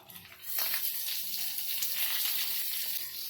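Onion and urad dal dropped into hot oil in a pan for bun dosa: after a brief quiet moment a loud burst of sizzling erupts and then settles into a steady, bright, close hiss.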